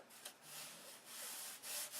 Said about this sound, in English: I don't want to sand this sheeting too thin, because that's how you get a wing to fold up